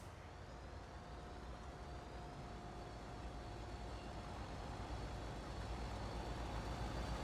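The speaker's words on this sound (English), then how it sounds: "That's the gleaner combine for you right there." Gleaner combine harvester in Farming Simulator 25 running steadily, a continuous broadband engine drone with a faint tonal whine, even in level throughout with no talk over it.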